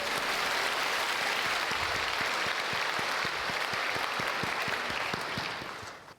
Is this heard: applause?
yes